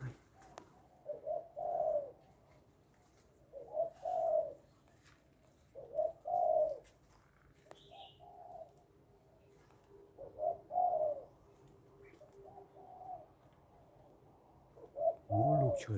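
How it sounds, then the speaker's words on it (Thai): A dove cooing outdoors in a series of soft, low, rounded phrases repeating roughly every two seconds, fairly faint against a quiet background, with a sharper close sound at the end. "ได้ยินเสียงเจ้านกเขา ขันจูฮกรูจูฮกรู"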